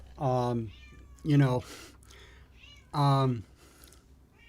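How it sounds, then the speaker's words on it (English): A visiting cat named Onyx meows three times, with clear drawn-out calls a second or so apart. They rise close and fairly loud over a quiet indoor room. "If you hear a little meowing in the back"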